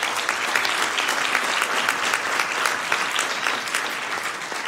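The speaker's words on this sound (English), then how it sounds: "Let's give them a round of applause." Sustained applause from an audience at a Sacramento city council meeting, a steady dense wash of clapping that holds evenly throughout without a break.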